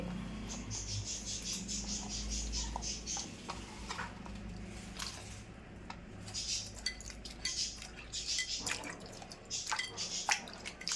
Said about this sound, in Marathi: शेंगा मी अगोदर धुतल्या नव्हत्या म्हणून आता धुवून घेते.